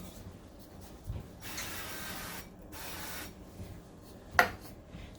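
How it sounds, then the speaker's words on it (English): Two short hissing bursts of avocado oil cooking spray onto a pan, fairly quiet, followed by a sharp click or tap near the end. "I'm going to spray my pan with some avocado spray oil"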